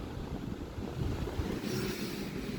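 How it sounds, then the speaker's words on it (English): Ocean waves wash in a steady broadband roar mixed with wind buffeting the microphone, continuous and fairly close, with no talk over it. "Look at the waves."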